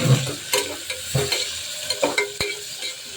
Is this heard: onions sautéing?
yes